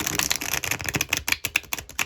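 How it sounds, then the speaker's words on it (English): A deck of cards being shuffled, rapid crisp riffling flutters and snaps close up, repeated in quick bursts over a couple of seconds with no talk. "nice shuffle"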